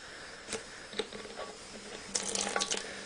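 Water trickles and splashes into a bottle cap in small spurts, a few brief drips and then a short steady pour near the listener, quiet overall.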